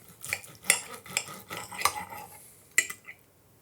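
Knife and fork clinking against a plate while a cooked Steak Diane is cut down the middle, several sharp scattered metallic taps over about three seconds with quiet scraping between.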